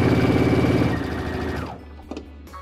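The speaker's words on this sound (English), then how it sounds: "we're going to sew right along that edge" A sewing machine stitches piping using a pearl and piping foot, running in a rapid rhythmic chatter, then slowing and stopping, followed by a few faint clicks.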